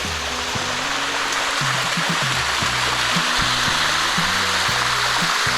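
The Bua Tong Sticky Waterfalls near Chiang Mai pour in a steady, close hiss of rushing water. Low tones that sound like music run beneath it.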